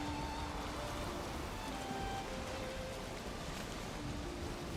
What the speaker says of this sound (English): We're about to run into some rain.